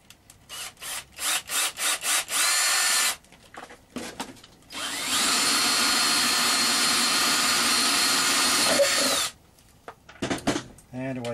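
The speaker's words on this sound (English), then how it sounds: "get yourself a drill with a 19mm spade bit." A drill fitted with a 19mm spade bit bores into material, starting with several short bursts before a long steady grinding run of about four seconds, then stopping with a few scraping sounds.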